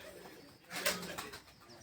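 Pigeons on a rooftop pigeon-flying loft give a soft, fairly faint coo that swells briefly in the middle against a steady outdoor background, with no voices.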